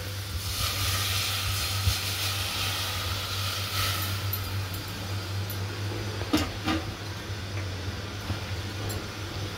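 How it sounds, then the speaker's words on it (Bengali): Boiled mung dal is poured into a frying spice mix in a pan, producing a continuous sizzling hiss over a low steady hum, with a couple of faint clinks and no talking. "এবার আমি সেদ্ধ ডালটা এই মশলার মধ্যে ঢেলে দিলাম।"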